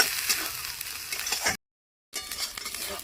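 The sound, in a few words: spices frying with coconut in a pan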